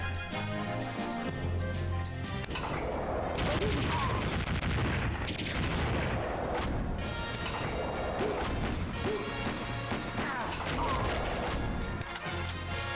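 Wolfenstein 3D gameplay on the 3DO, with loud rapid gunfire and explosive rocket blasts crashing repeatedly over a game soundtrack.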